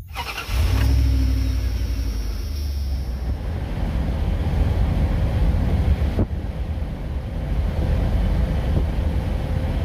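A 1998 Dodge van running after a fuel pump replacement, its engine coming up at the start into a steady low rumble heard from inside while driving. Broadband road and wind noise continues throughout, with no talking.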